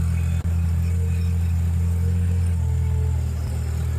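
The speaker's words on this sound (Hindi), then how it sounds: "जितना ट्रैक्टर मैं आसानी से चला रहा था उतना अमित नहीं चला पा रहे हैं" A tractor drives through a farm field, its engine holding a steady low, loud rumble with a brief dip early on and a slight change in pitch toward the end.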